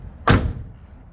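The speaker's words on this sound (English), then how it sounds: "So just listen how these doors shut." A 1971 Oldsmobile Cutlass Supreme door shuts with a single solid, close thud and no rattle, followed by quiet room tone.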